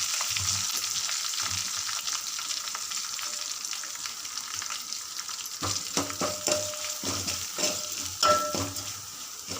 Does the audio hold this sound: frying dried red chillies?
yes